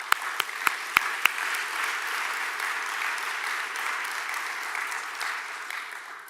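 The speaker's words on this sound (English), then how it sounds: "A round of applause." A round of applause from a business conference audience in Jamaica, opening with a few sharp separate claps that swell into steady, even clapping from a large seated crowd, heard at a moderate distance and sustained throughout.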